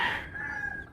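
Chicken giving a single short call, a brief nasal vocal note that trails off quickly, fairly close and alone.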